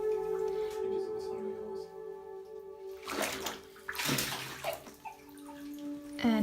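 Hot water gushes into a bathtub in bursts, with splashing rushes between quieter stretches and a faint tonal hum in the background.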